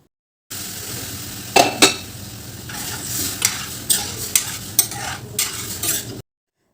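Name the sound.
cooked greens and lentils added to pan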